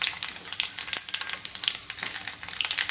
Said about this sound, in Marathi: आता याच्यात मोहरी घालून घेऊ आपण त्यानंतर थोडी जिरी टाकली